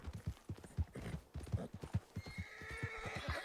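A horse in Red Dead Redemption 2 gallops in a fast, steady clip-clop of hooves and gives a sharp whinny near the end, close and fairly quiet.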